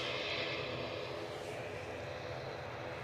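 An Aer Lingus airliner takes off at Edinburgh Airport, a faint, distant, steady jet roar with a broad hiss.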